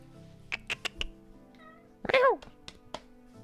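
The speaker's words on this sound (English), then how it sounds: "No, you just want to stand there and meow at me." A Minecraft cat meows several times in short, clear calls, followed by a longer drawn-out meow, with soft game clicks and thuds in a quiet background.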